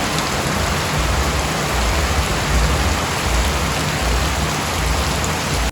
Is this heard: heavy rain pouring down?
yes